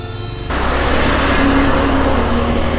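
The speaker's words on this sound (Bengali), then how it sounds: "বাসগুলো হু করে যাচ্ছে।" Heavy highway traffic roars past nearby on a main road between Kolkata and Benaras: a quieter rumble swells suddenly into a loud, sustained whooshing rush as large vehicles such as buses pass.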